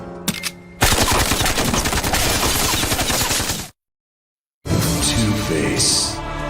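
Machine gun hidden in the Penguin's umbrella fires in a Batman Arkham video game, a loud dense rattling burst running for about three seconds, cutting to silence, then more loud game action and noise.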